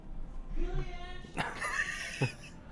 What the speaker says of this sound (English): every time he can't get it, he barks for help